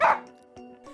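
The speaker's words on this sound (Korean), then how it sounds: "역시나 짖는 모습부터 보이는 망고인데요" A dog barking indoors, one sharp loud bark followed by softer yips and short sounds, close by.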